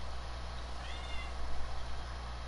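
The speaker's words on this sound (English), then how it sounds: "I just hear the cat screaming." A cat in the Sims 4 game gives a single meow near the middle, moderately loud, heard over a constant low background hum.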